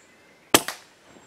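A squirrel is shot at with an air rifle in a garden by a feeder: one sharp, close crack, followed a beat later by a second smaller impact-like snap, then quiet.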